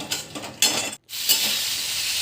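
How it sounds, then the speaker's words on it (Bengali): Capsicum sautéing in a hot pan for chilli soybean, seasoned with cumin and coriander powder: a steady, bright frying sizzle with stirring, cut by a brief silent gap before the hiss returns at full strength. "দেখো আমি ক্যাপসিকামগুলো সুন্দর করে দিয়ে এবারে কষিয়ে নিচ্ছি।"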